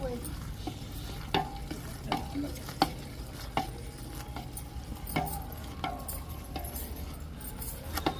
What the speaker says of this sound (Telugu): ఇలా ఒకళ్ళు పోస్తూ ఒకళ్ళు కలుపుతూ ఈ పాకాన్ని కలుపుకోవాలి